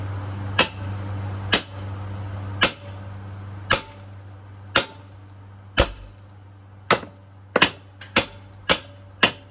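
Sledgehammer blows striking a seized Loncin lawnmower engine, about ten sharp metallic impacts close up, spaced roughly a second apart and quickening toward the end, with a low hum beneath them.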